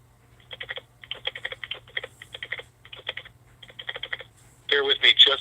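Bursts of rapid computer keyboard typing during a phone call, clicks grouped in short runs with pauses between, heard faintly down a telephone line over a low hum, ending in a louder burst of sound.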